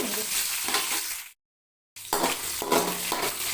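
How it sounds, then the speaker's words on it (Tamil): Cashew nuts fry in ghee over a low flame for rava laddu, a steady close sizzle that cuts out abruptly to silence for about half a second, then resumes with faint stirring. "இப்போ நம்ம முந்திரி பருப்பை வறுத்து எடுத்துக்கிறோம்"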